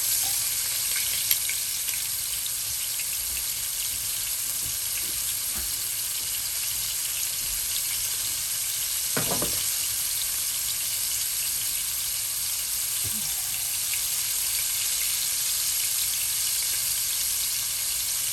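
Meatballs browning in a hot pan, a steady hiss of frying and sizzling fat throughout with a few faint clicks and stirring touches, no speech.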